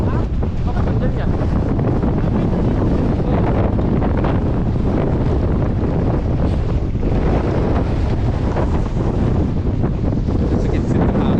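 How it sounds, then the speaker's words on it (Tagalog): Strong wind roars and buffets a microphone aboard a boat at sea amid heavy waves, a loud, continuous rushing blast with surf noise underneath. "Sa gitsit ng hangin."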